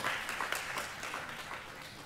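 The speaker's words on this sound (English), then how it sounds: "We would like all of you to applause and have like give a good cheers to all the society members" Conference audience applauding society members, a moderate, steady patter of many hands clapping at a polite distance, fading slightly toward the end.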